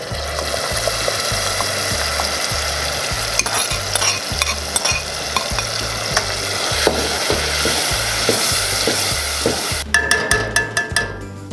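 Pork frying in its own rendered grease with salsa verde, a loud, busy sizzle with a regular scraping stir rhythm throughout and sharper crackles near the end, heard close up with no talking.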